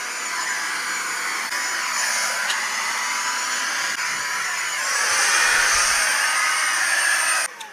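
A cordless vacuum cleaner runs continuously with a steady high-pitched motor whine and airy hiss, rising slightly in intensity near the end before cutting off.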